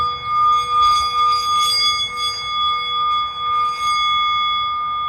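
A meditation bell's long sustained ring hums steadily, with a pure shimmering tone that wavers gently in loudness and never fades out, no talking over it.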